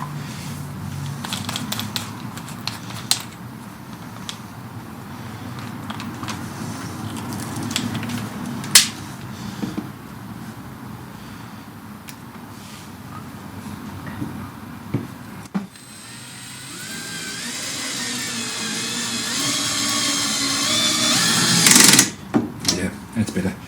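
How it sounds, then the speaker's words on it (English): A power drill drives a screw straight into wood as a self-tapping screw for a drafting table top, whining steadily and rising in pitch toward the end after a stretch of quieter handling. "I might actually just try not drilling first and just driving the screw into the wood, treating it as self-tapping"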